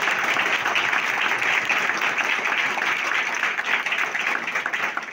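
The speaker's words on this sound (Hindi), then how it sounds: "जितनी जोरदार हम ताली बजा सकते हैं" An audience at a farming training session at a head office applauds, a dense sustained burst of clapping lasting several seconds with no pause.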